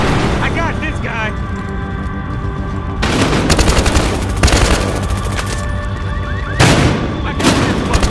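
Heavy gunfire from the video game Battlefield Hardline, with dense bursts of automatic fire and booming shots that rise and fall over several seconds while players shout over the fighting.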